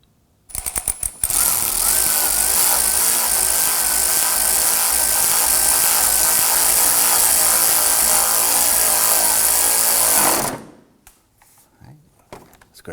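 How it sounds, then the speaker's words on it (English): Radiator support bolts being tightened with a power tool on a 2003-2014 Volvo XC90 3.2L inline-six, a loud sustained ratcheting whir lasting about nine seconds after a few short bursts, close and alone. "Let's go ahead and tighten up our 2 supporting bolts for our radiator."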